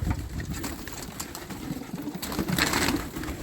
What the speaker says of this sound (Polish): Takie gołąbki. Ale widać, że zdrowe.